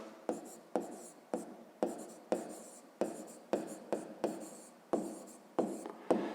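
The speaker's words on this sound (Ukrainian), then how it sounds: "Пишемо тоді третя дія." A pen writes a math solution on paper in a steady rhythm of about a dozen short, scratchy strokes, each starting sharply and fading, close and quiet with no talking.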